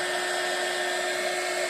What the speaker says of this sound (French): Et je vais ressécher ça avec mon heat gun.